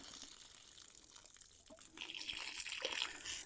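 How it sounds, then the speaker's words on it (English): Water poured out of a Bestway pool sand filter tank, a steady splashing gush that swells louder midway and keeps running without pause. "I'm gonna pour some of this water out."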